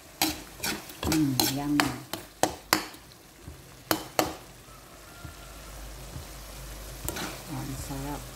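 A pan of frying food sizzles while a utensil scrapes and clatters through it in a string of sharp stirring knocks, and a voice speaks briefly near the start.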